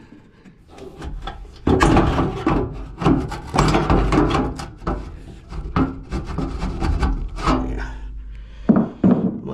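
Hammer prying a stuck piece of wood out of a tight spot during heat-run ductwork work in a room addition, close-up scraping, creaking and knocking in irregular bursts, with a brief word spoken.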